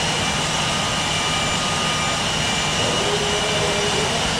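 Steady, loud roar of a private jet's engines at takeoff in a flight simulator game, a broadband rush with a faint whine running continuously through the clip with no talk over it.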